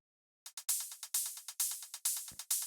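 Electronic hi-hat samples in a raw techno track play alone: crisp, bright ticks in a fast uneven pattern, starting after a short silence, with one low thump midway.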